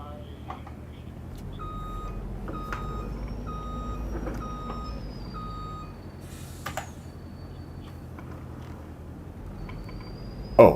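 A wood chipper truck reversing in Farming Simulator 22 gives a steady series of regular electronic beeps over a low engine hum, with a few knocks and clunks scattered through the game ambience.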